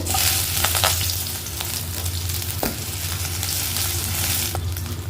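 Steady, crackling sizzle of mustard seeds, crushed garlic, curry leaves and a dried red chili frying in hot ghee and oil, with occasional pops and a stir or two, close and continuous.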